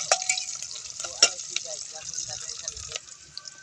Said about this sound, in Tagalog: gisa-gisa lang tayo.